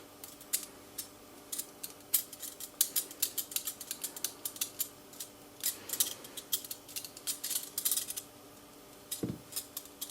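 Small snips and clicks from trimming handmade gingerbread village soaps, a quick irregular series of light cuts close by, with a brief low thud near the end and no talking.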